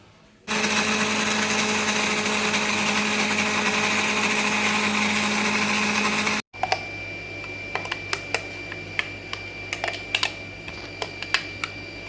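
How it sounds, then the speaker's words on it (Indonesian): A kitchen blender grinds turmeric and spices into a paste for naniura, the Toba-style marinated fish dish, running loud and steady for about six seconds before cutting off abruptly, followed by quieter clicks and handling knocks. "mau kita blender semua"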